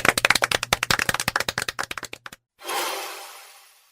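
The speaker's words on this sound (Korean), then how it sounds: "일단 박수 한번 다시 시작합시다." A fast, close run of sharp individual hand claps, loud and evenly spaced for a couple of seconds, then cut off and followed by a burst of broad hiss-like noise.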